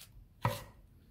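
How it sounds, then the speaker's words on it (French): A single sharp knife chop through celery onto a cutting board with a large knife, close and crisp, otherwise quiet. "donc il faut prendre un gros couteau. D'abord, en fine tranche, d'à peu près 2 mm d'épaisseur."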